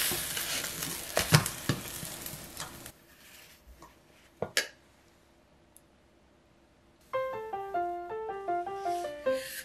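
A thick cabbage pancake is handled in a frying pan: a few scraping, clattering knocks as it is turned, a sharp clack, a quiet stretch, then a rising sizzle with repeated soft taps of a utensil.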